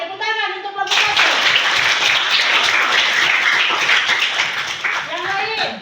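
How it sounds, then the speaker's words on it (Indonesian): Classroom of students clapping for a presenting group, a burst of brisk applause that starts after a short spoken line and fades out as a voice resumes. "tepuk tangan untuk kelompok satu"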